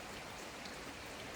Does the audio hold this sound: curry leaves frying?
no